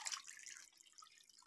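Water poured into a cooking pot for pork sinigang, a faint, steady hissing trickle close by with a few drips, with no talk.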